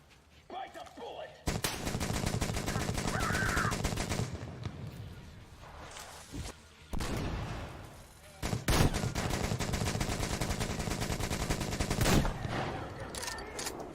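Automatic gunfire in the shooter video game Metro Exodus, on PC at hardcore difficulty, in dense rapid bursts broken by short gaps, loud and close, with scattered game effects between volleys.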